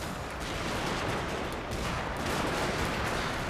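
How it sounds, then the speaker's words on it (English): Massed musket volleys from two ranks of infantry in Total War: Shogun 2 – Fall of the Samurai, a dense, continuous crackle of overlapping gunfire rolling steadily for several seconds with no pauses. "2-rank firing should be good enough to wipe out everybody which is attacking that position over there"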